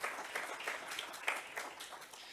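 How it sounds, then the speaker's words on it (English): A workshop audience gives a modest round of applause after presentations, with light, somewhat sparse claps and a few sharper individual hits standing out, fairly quiet and fading toward the end. "Another round of applause for our first presentations."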